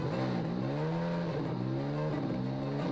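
Lamborghini Aventador SVJ engine revving, a steady loud roar with pitch climbing and dipping in repeated sweeps, close and continuous with no talk.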